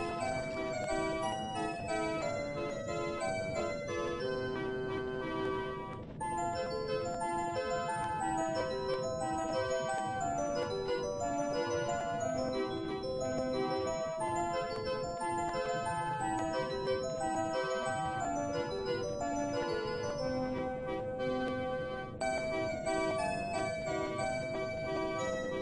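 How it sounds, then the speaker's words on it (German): Melodic background music from The Legend of Zelda: Majora's Mask plays continuously, tinkling, music-box-like tones over a steady ticking rhythm, with no talking over it. "So lange könnt ihr mal die schöne Musik hier genießen"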